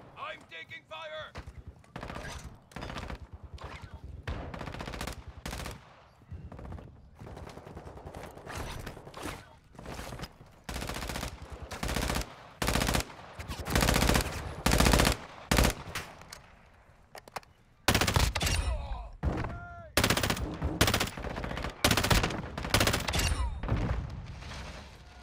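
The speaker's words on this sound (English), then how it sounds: "You are taking effective fire." Gunfire in the Call of Duty DMZ video game: rapid bursts of automatic rifle fire and single shots, loud and close, repeated across the stretch with short lulls. Voices and radio callouts are heard in between.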